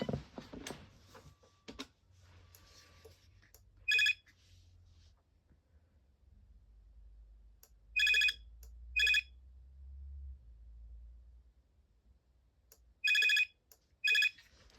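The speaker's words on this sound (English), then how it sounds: "It's not the nicest ring I've ever heard." A Binatone Icarus 2100 cordless phone ringtone trills in short electronic bursts, one alone then paired bursts twice, separated by quiet gaps with a low background hum.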